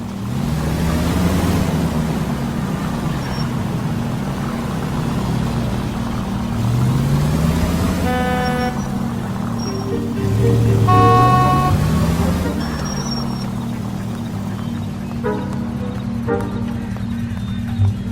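Police car in L.A. Noire driven hard through city traffic, engine revving and rising and falling under repeated blaring horns from other vehicles, with clip-clopping horse hooves and voices talking in between.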